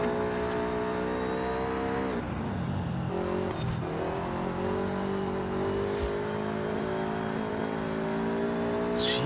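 A new car drives fast along a mountain road, its engine note droning steadily and shifting in pitch as it accelerates, with brief bursts of wind or tyre noise and no speech.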